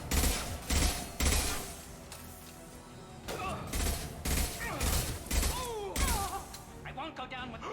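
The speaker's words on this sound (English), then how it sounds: "Firing concussive shot." Concussive shot firing in Mass Effect 2, with loud impact bursts and crashing combat effects mixed with game music and character voices.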